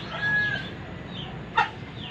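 Ducks kept in a pen on a small farm, giving scattered soft calls through low background noise, with one brief, sharper call near the end.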